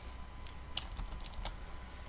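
A few quiet keystrokes on a computer keyboard as a single word is typed into MS Word, with short irregular clicks spread over a couple of seconds against a low steady background hum.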